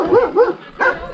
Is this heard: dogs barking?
yes